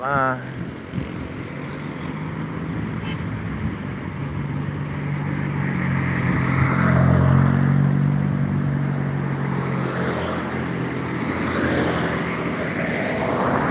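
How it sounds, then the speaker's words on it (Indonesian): Trucks drive past on a road, a low engine rumble building to a peak midway and then easing off, with someone talking over it. "Disusul lagi sama truk-truk."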